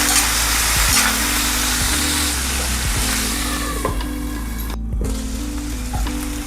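Potatoes and green peas frying in a covered pan for aloo matar, a steady loud sizzle with crackling and faint stirring clinks throughout, no voices.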